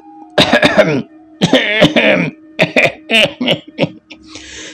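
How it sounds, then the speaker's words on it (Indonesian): Someone clears their throat several times in exaggerated, voiced bursts, with short pauses between them. The sounds are close and clear. "Kemudian ia berdehem dibuat-buat."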